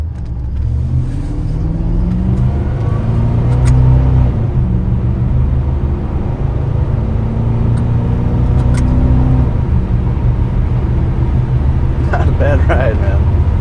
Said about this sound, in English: we'll run this thing through a couple of the gears, shifting it the old-fashioned way